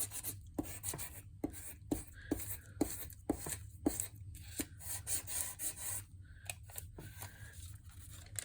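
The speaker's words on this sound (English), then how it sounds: "I'm going to take a bone folder and I'm simply going to burnish it." A bone folder rubs and burnishes the back of paper laid over a rubber stamp carving block, giving a run of short, dry scraping strokes in a steady rhythm, close and fairly quiet, with no talking.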